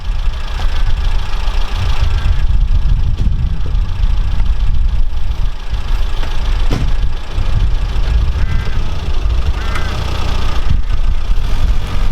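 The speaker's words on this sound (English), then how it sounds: "this is my first time driving a classic Mini with an automatic gearbox" A classic Mini with an automatic gearbox and a faulty rear suspension drives on a road test in North Wales, its engine droning loud and steady from inside the car along with road noise.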